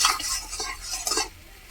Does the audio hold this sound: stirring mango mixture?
yes